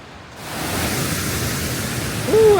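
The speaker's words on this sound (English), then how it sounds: "I don't know if you can hear all that water running" Water rushes steadily at Nunobiki waterfall on a hiking trail in Kobe, Japan, as a broad, continuous roar that swells after the opening moment, with a brief faint tonal sound near the end.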